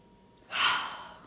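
A single deep breath drawn in, a soft breathy rush that swells about halfway through and then slowly fades, close and fairly quiet in a calm room.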